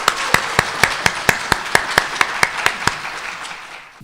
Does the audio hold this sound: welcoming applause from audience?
yes